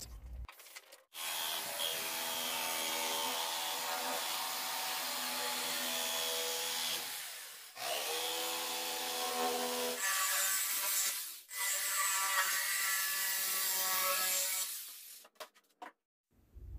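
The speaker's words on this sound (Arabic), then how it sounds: "هجيب خشب MDF حوالي 3 ملي وابدأ ارسم عليه الرسمة وابدأ اقصقصها باستخدام منشار الاركت" A scroll saw cuts thin 3 mm MDF board, giving a steady, close buzzing whine with a rasping edge that runs continuously, breaking off briefly a few times before stopping near the end.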